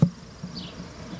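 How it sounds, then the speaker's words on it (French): Honey bees buzzing at an open hive as a beekeeper works with a colony divider: a soft, close insect drone with a few individual bees whining past, beginning with a brief low thump. "Il y a des abeilles là qui vont sortir."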